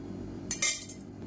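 A cooking pan is picked up and set down before oil goes in for a wheat breakfast dish, giving two quick near metallic clinks about a tenth of a second apart over a low steady kitchen hum.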